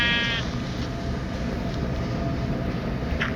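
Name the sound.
sheep bleating in Minecraft Pocket Edition video game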